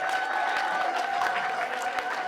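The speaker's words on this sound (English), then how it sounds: "Let's have a big round of applause for the DeWitt Clinton varsity football team." Applause for a high school varsity football team at a retirement party, a short burst of steady clapping from a crowd, moderately loud and continuous.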